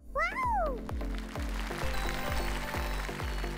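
A pet cat gives one clear rising-falling meow up close, followed by a steady rhythmic thumping in the background.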